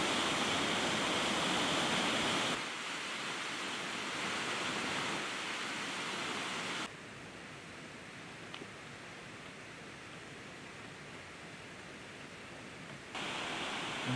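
Cascade de Vins, a waterfall on a mountain race route, gives off a steady broadband rushing roar, constant and fairly distant, with abrupt level shifts but no voices.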